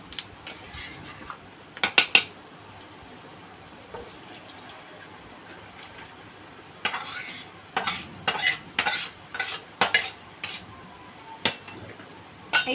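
Singhi fish curry is poured over pea-lentil fritters in a pan, with scattered metallic clinks of a utensil against the pan followed by a busy run of clattering and sloshing, close and moderately loud.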